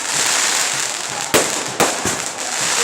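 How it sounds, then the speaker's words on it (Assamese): Fireworks burst in the sky over a busy crowd at a Balisatra festival gathering, with two sharp loud bangs standing out and a softer pop in between over continuous background noise. "আকাশত আতচবাজী চলি আছে।"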